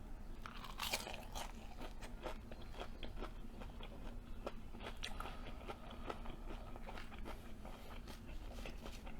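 Crunchy fried catfish is bitten and chewed close up, giving a dense run of crisp crackling crunches that continue steadily throughout, with no talking.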